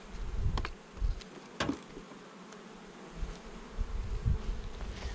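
Honey bees hum at an open hive during a spring beekeeping inspection, a steady close drone with individual insects buzzing past the microphone, along with low handling thumps and no voices.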